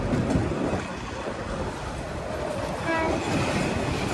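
The Agnibina Express train rumbles at speed through Tongi station in Bangladesh, a steady loud roar of wheels and rattling carriages with a faint horn note toward the end.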